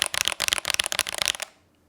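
Fast typing on a custom mechanical keyboard with lubed Akko vintage white switches, a dense run of sharp, poppy close-up keystrokes that stops abruptly, leaving near silence.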